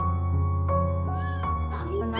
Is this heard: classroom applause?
no